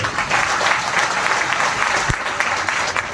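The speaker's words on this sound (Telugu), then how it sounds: "క్లాప్స్ గట్టి కొడుతుంది" An audience claps loudly and steadily, a dense wash of many hands sustained throughout with no voices over it.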